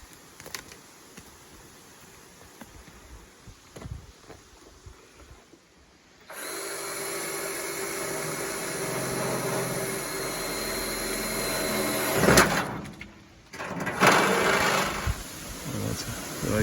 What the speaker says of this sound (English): So you're using the jigsaw to cut the... Yeah, big hole.